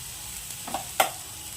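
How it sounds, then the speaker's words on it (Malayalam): Chili powder is stirred and fried in a pan, heard as a faint sizzle with a couple of soft scraping strokes from the spoon. "ആ മുളക് പൊടിയുടെ പച്ചമണം ഒന്ന് മാറുന്ന വരെ ഒന്ന് ഇളക്കി കൊടുക്കാം."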